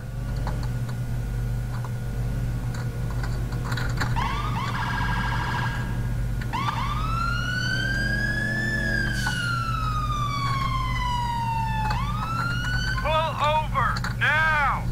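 A fire engine siren in GTA IV wails loudly and continuously, sweeping up and down through several cycles over a steady low engine drone.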